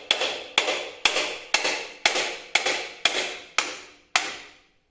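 Hammer tapping on a front drum brake part of a Land Rover Series 2, nine evenly spaced sharp metallic taps, each ringing briefly before the next, close and alone.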